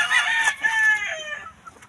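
A gamecock rooster of mixed Kelso and Sweater bloodline crows once, loud and close, in a single drawn-out call lasting under two seconds.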